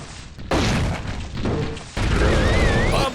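Grenade launcher blasts in the 2002 Xbox game The Thing, two loud booming explosions with rumbling tails, the second followed by a rising whistling tone.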